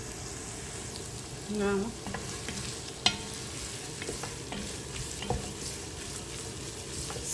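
Chili con carne browning in a pot is stirred with a spoon, giving a continuous soft sizzle and scraping, with a couple of sharp clinks against the pot and a brief spoken word, close and moderately quiet.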